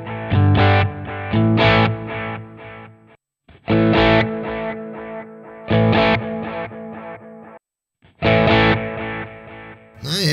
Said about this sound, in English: Tube simulates tube-driven tape echo sound.